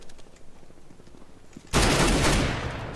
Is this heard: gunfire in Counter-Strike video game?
yes